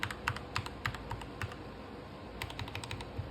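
Fast, quiet typing on a computer keyboard after its stabilizers were replaced to cure a rattle: two light, clattery bursts of keystrokes separated by a short pause, close and alone.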